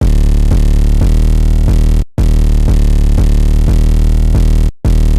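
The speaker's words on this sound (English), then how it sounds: "And both of them together sound like this." Two layered 808 basses, the Behemoth and the 011, sound together in FL Studio. They hit as a dense, loud, gritty sub-bass pattern with noisy distortion on top, steady repeated notes broken by two brief cutoffs, and no voices.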